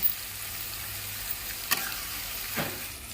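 Onions fry in a pan with a soft, even sizzle, broken by two sharp stirring scrapes, close and short, no voices.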